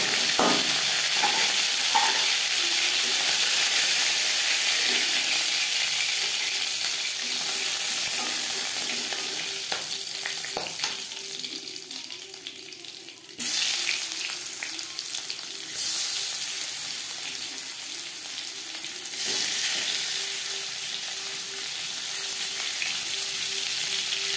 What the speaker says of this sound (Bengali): সামুদ্রিক মাছ বলে আমি একটু কড়া করেই ভাজলাম।